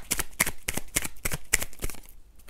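Tarot cards being shuffled by hand, close up, in quick rhythmic bursts of crisp riffling and slapping, about eight separate flicks in a row with no talking.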